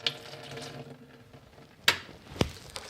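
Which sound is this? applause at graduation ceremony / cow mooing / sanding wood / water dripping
water dripping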